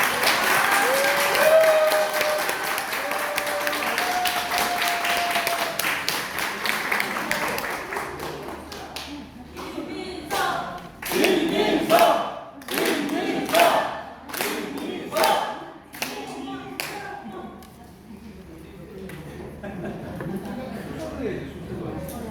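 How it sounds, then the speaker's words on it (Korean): An audience at a Democratic Party meet-and-greet for a Supreme Council candidate in South Gyeongsang claps, starting as dense continuous applause and thinning into scattered bursts of clapping, with a host talking over it. "박수 한번 부탁드리겠습니다"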